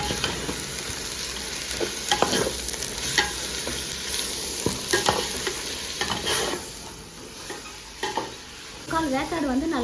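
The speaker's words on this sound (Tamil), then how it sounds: "இப்போ வந்து நீங்கள் புதினா, தக்காளி, பச்சை மிளகாய் 3த்தையுமே ஒன்றா சேமாக வந்து கொட்டி அதில் வதக்கிக்கலாம்" Mint, tomato and green chili sautéing in a pan for prawn biryani: a steady sizzle with repeated scraping stirs, close and fairly loud, and a brief voice near the end.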